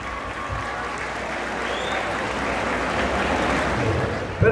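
Crowd at a rodeo-style riding tournament applauds a rider, a dense, continuous wash of clapping that holds steady and swells slightly toward the end.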